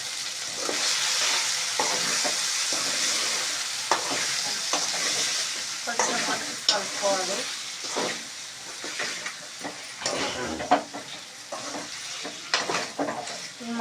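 Drumstick and tomato curry stirred in a pan, giving a steady frying sizzle broken by repeated scraping and clinking strokes of the spoon, close and moderately loud, with no talk.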